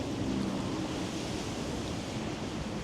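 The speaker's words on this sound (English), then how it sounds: "The joint ain't gonna be able to survive these high caliber winds" Strong wind gusting outdoors in the woods, a steady broadband roar buffeting the microphone throughout, loud and continuous with no talking.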